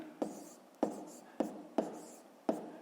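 Numbers handwritten during a fifth-grade maths exercise: five short, crisp strokes at an even pace, close and fairly quiet, with nothing else heard.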